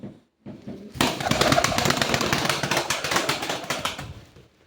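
Pigeons and their chicks coo and flutter nearby, a busy, steady stream of soft calls and rapid scratchy rustling that follows a brief quiet moment.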